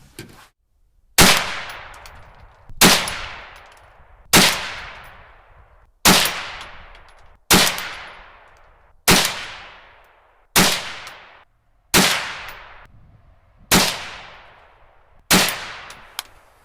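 .22 WMR rifle firing Federal 40 grain full metal jacket rounds outdoors: ten sharp, loud single shots at an even, unhurried pace, each cracking then fading with a short echo.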